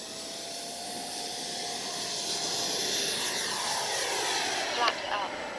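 A Freewing Avanti S V2 RC jet takes off from a runway, its ducted-fan whine building steadily into a loud, sustained rising scream with no pauses.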